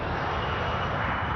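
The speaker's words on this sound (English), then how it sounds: "Watch the Falcon roll out." A Falcon business jet rolls for takeoff at Kelowna airport, a steady broadband engine roar holding level and fairly loud throughout, with no voices.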